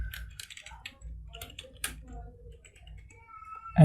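Fingers tap out a password on a computer keyboard in quick, light clicks with brief pauses, close by, while a person speaks over them.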